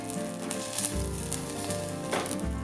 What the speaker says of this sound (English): heat the butter over medium heat in a small saucepan until it foams